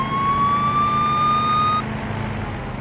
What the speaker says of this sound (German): Die Sirene ist ja primär wirklich nur da, damit man durch den Verkehr durchkommt.